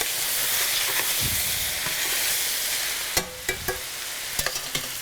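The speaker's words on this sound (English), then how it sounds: "I love that sizzle. That's your pasta saying it's liking the way it feels at this moment." Pasta frying in a pan for a mushroom and sun-dried tomato cream sauce dish gives a steady close sizzle and hiss, with a few sharp clinks of stirring near the end.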